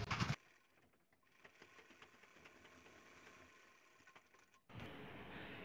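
A sewing machine stitches a curved seam on narrow plazo pants with a chain stitch, a faint, steady mechanical whir framed by louder bursts at the beginning and end.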